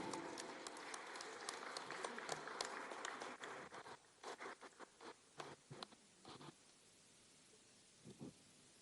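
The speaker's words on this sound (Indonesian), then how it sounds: "Mari kita berikan tepuk tangan yang meriah." An audience at a stock exchange listing ceremony for PT Hotel Fitra International applauds, full clapping at first that thins out into scattered, fading claps and a few last isolated bursts.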